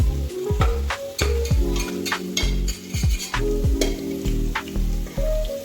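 Onions sizzle loudly in hot oil while a spoon stirs them in a pan for a homemade chicken biryani, with a steady frying hiss and repeated clinks and scrapes of utensil on metal, close up and without talk.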